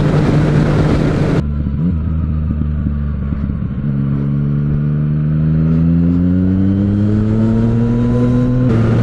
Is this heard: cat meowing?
no